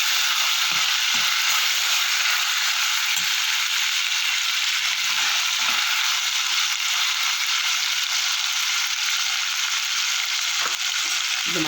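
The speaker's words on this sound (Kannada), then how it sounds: "ಶುಂಠಿ ಬೆಳ್ಳುಳ್ಳಿ ಪೇಸ್ಟ್ ಹಾಕ್ತಾಯಿದ್ದೀನಿ." Ginger garlic paste sizzles and fries in hot oil in a pan for Mughlai biryani, a steady loud hiss throughout with a few faint stirring clicks and no talking.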